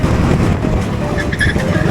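Go-karts racing in a public session at South Coast Karting in Bournemouth, engines droning steadily and close, with a brief high tire squeal midway.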